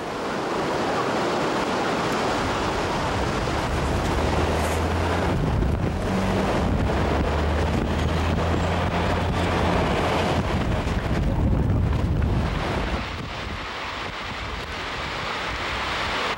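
Strong storm wind during a 1995 Oregon storm in Portland, a loud continuous roar buffeting the microphone with rushing gusts, surging and easing throughout and dropping slightly toward the end.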